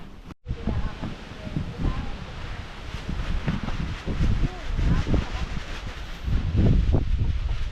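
Strong wind from Typhoon Uwan roars and buffets the microphone in gusts, with rustling and voices talking underneath throughout.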